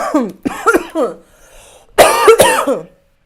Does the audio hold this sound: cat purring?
no